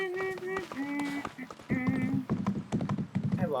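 Horse hooves clip-clopping in the video game Disney Dreamlight Valley, a quick rhythmic trot of hollow taps that grows louder midway, mixed with game music and a voice talking over it.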